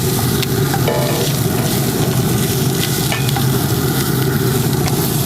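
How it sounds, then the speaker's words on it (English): Loud, continuous sizzling of smoked sausage browning in hot fat in a Dutch oven, dense crackling hiss throughout with no talking. "Oh, listen to that sizzle."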